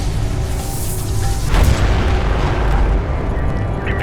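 A ship's beam weapon fires in the Homeworld: Deserts of Kharak video game, a loud broadband blast swelling into a sharp burst midway and then holding as a dense, rumbling roar.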